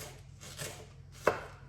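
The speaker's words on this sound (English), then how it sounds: "Chop onions finely." Quiet knife work finely chopping onions on a board, a couple of soft cuts followed by one sharper, crisper chop near the end, over a low steady background hum.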